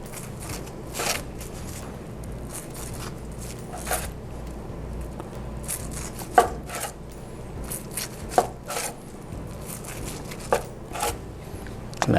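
A knife slices through a sushi roll topped with ahi, cutting it into 8 pieces; a series of crisp, separate cutting taps and board knocks come at an uneven pace, close and fairly quiet against a low hum.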